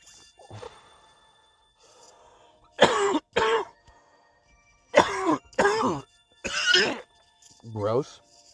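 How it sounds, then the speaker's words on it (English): A man's smoker's cough and throat clearing, a few harsh, close bursts spread across the stretch with quiet gaps between them and a low, rough grunt near the end. "Smoker's cough, you know how it is."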